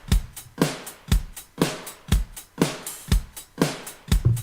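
Looped drum pattern from Addictive Drums in Pro Tools, punchy kick and snare hits about every half second with hi-hat splashes, repeating steadily and close with no voices.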